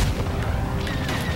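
In Star Wars Battlefront 2, a missile strikes a starfighter in a burst of booming blasts and rattling fire, loud and dense, that settles into rumbling aftershocks over a second and a half.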